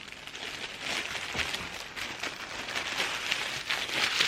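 Steady rain falls outside on a wet day, a continuous soft hiss of drops pattering on surfaces with faint crinkly ticks, fairly quiet and even throughout with no talking.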